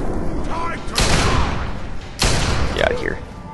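Two heavy gunshots from a weapon in the post-apocalyptic game Fallout 3 boom close and loud about a second apart, each trailing off into a rumbling decay, with a voice talking over them.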